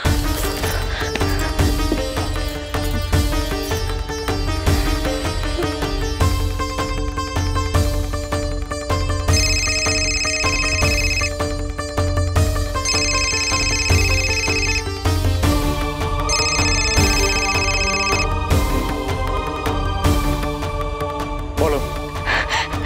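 A phone ringtone plays as a repeating melodic ring in several bursts, loud and near, over a dramatic music background from a Bengali TV serial.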